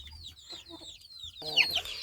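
Backyard poultry hens clucking, brief close clucks with higher calls, louder and busier toward the end, in a home coop while the birds are given louse treatment.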